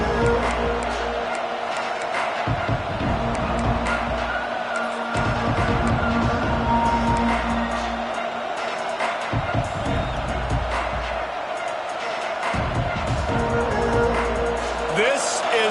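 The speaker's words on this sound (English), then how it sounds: "This crowd ready to make its presence known." A stadium crowd in the video game College Football 25 keeps up a steady roar with swells and thumps, while a commentator talks over it throughout.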